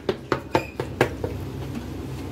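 Several sharp knocks of a wooden masher against a metal pot of saag, spaced about a quarter second apart, then fading into softer scraping and stirring.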